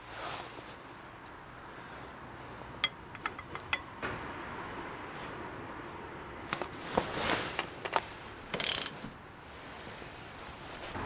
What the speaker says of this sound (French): Clic, clic, clic, clic. Alors la clé dynamométrique fait partie des essentiels.